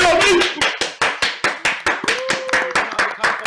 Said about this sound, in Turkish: Oğlum sağlam alkışlayın